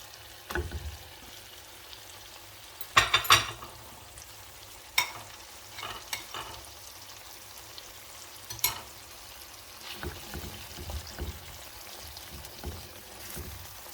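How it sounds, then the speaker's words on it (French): Tomato paste and harissa sizzle softly in a frying pan for a Tunisian sauce, a faint, low crackle broken by occasional stirring clinks and scrapes. "je vais mettre le concentré de tomate et la harissa arabe"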